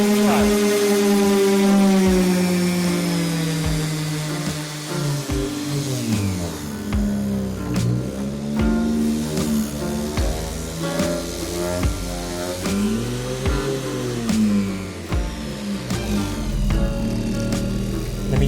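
A DEKO DKG400-125 random orbital sander runs steadily at close range, starting at full speed and then winding down gradually as its speed is lowered, with a continuous whirring hum and no talk.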